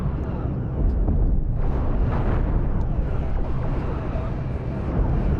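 Ship cannons fire in the Star Trek Cosmoteer space game, a dense, loud barrage of booming shots and rumbling impacts that runs without pause under the ongoing battle noise.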